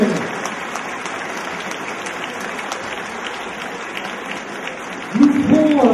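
Steady applause from an audience at a regional beauty pageant in Orléans fills the whole stretch, with a voice briefly rising over it at the end.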